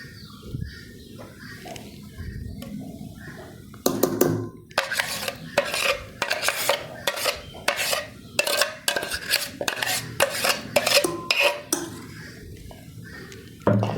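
Ground flour batter for Pesaha appam is mixed by hand in a bowl, with a soft start and then rhythmic, repeated scraping strokes, close and fairly loud.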